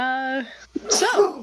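A single close sneeze bursts out in a studio talk show setting, following a sustained hummed voice and a brief pause, with speech around it.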